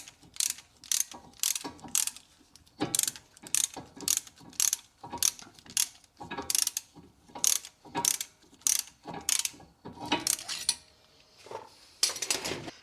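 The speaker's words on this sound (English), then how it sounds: "Now we have to compress the piston back into the caliper." Rhythmic metallic ratcheting clicks in short bursts as a special tool presses the front brake caliper piston back on a 2013–2019 third-generation Ford Escape, close and steady with brief pauses between runs.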